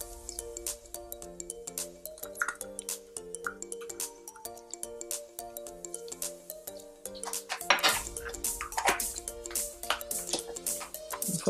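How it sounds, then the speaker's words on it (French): A spoon scrapes and clinks against a bowl while mashing coconut butter with castor oil for a solid shampoo, repeated close metallic taps and scrapes in an uneven rhythm, getting busier toward the end. "faut attendre que le beurre de coco fonde et on continue à écraser"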